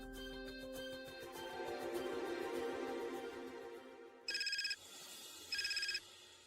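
Electronic phone ringtone sounds in two short bursts after a stretch of background music, each ring a bright warbling tone lasting about half a second.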